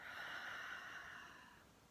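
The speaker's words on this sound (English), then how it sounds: "And breathing out resistance." A single slow exhale during a calm tapping and breathing exercise, soft and airy, faint and close, easing off toward the end with no talking.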